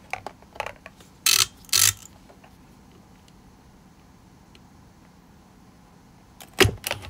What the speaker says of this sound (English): So now I have everything drilled in.